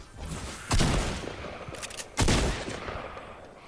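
Fortnite gunfire rings out in two loud, close bursts of rapid shots, each a sharp blast with a trailing rattle, separated by about a second and a half of game noise.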